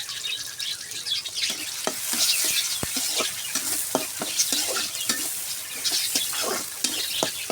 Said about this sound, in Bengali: তেল গরম হয়ে গেছে, গরম তেলে পেঁয়াজ আর রসুন সুন্দর করে